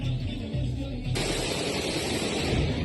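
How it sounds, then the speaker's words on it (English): Bursts of celebratory gunfire at a Middle Eastern gathering, heard as a rough, crackling rattle of shots under noisy, distorted recording, with the texture shifting abruptly partway through. "Middle Eastern celebratory gunfire"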